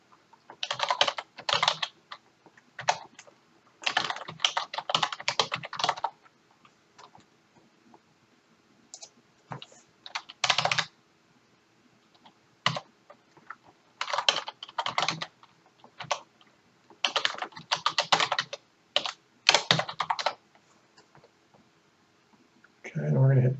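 Domain names being typed on a computer keyboard: close, crisp bursts of rapid key clicks separated by short pauses, repeating over about twenty seconds.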